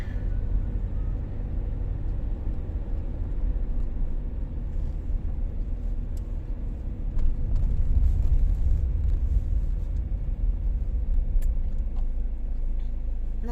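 A car creeping slowly along a road in heavy traffic, heard from inside as a steady low engine and road rumble that swells slightly midway, with faint clicks and no talk.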